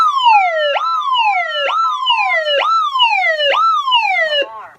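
Vista 10SE alarm panel voice siren sounding a loud, repeating electronic wail, four rising-and-falling sweeps close up, each roughly a second long, cutting off at the end with no talk over it.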